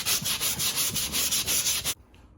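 A sanding block or pad rubs back and forth over dried drywall joint compound on a house wall, a steady rhythmic scratchy rasp of repeated strokes that stops abruptly near the end.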